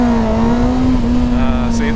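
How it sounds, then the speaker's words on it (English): A Kawasaki ZX-9R motorcycle engine holds a steady, loud, buzzing rev close by during wheelie practice, its pitch barely changing throughout. "gotta give it a bit more gas."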